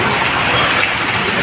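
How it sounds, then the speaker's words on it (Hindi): Torrential monsoon rain pours down on the streets of Ramnagar in Uttarakhand, a dense, steady, loud roar of water with no breaks. "मूसलाधार बारिश आप देख रहे हैं"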